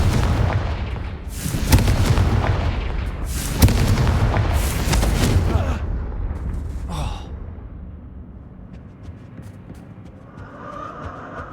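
Spell explosions from the Hogwarts Legacy video game, including the Confringo blast: several loud booming bursts in the first few seconds, then quieter rumbling and sparse magical effects fading out.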